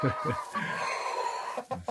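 Hens cluck and murmur softly throughout, a busy flock pecking at fermented feed, with some brief low rustling and shuffling near the end.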